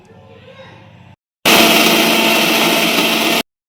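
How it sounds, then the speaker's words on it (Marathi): An electric kitchen mixer grinder whirs loudly for about two seconds, grinding green chilli and coriander, in one steady burst that stops abruptly. A faint, brief voice comes before it starts. "सगळं आता मिक्सरच्या भांड्यामध्ये टाकलं आता बारीक करायला"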